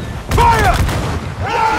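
Ship cannons firing in Assassin's Creed IV Freedom Cry naval combat, heavy booming blasts close by, with shouted voices over the roar.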